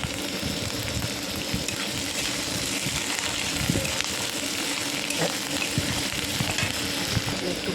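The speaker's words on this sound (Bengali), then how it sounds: "ভালো করে ভেজে নিচ্ছি" Onion, green chilli and garlic frying in a pan, a dense continuous sizzle with small crackles and occasional faint stirring clicks, steady and close.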